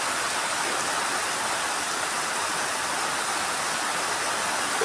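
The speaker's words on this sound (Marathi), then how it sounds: "बघा किती पाऊस, पूर्ण अंधार अंधार झाला इतका पाऊस" Heavy monsoon downpour in the dark, a dense, steady roar of rain hissing evenly and loudly without a break.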